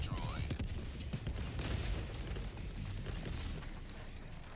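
Rapid bursts of gunfire aimed at an automaton enemy in Helldivers 2, a dense fusillade of shots with mechanical game effects, fairly loud and continuous over a busy combat backdrop.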